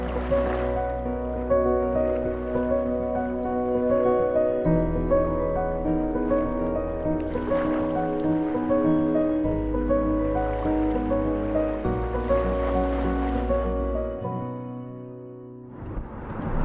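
A boat motors across the water, its engine a steady drone that drops and rises in pitch a few times over the waves, close and continuous with no talk.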